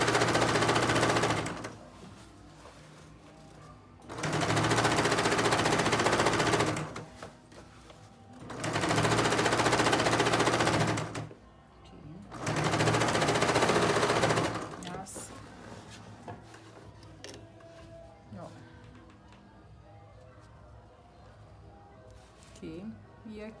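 A sewing machine stitches a seam along the bias binding of a child's jacket in three loud, steady bursts of a few seconds each, with a person talking quietly in the pauses between and after them.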